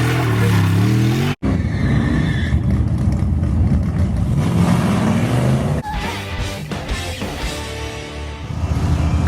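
A Plymouth Duster with a 318 engine and column-shifted transmission roars loudly down a drag strip, revving hard, briefly cutting out during a shift, then pulling again with rising pitch and heavy wind buffeting.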